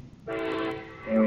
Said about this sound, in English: And we have a train